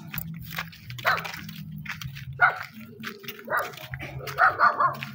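A dog barks and yips nearby outdoors during a walk, with sharp, separate barks spaced irregularly, growing into a quicker burst of several barks near the end, over a low background hum.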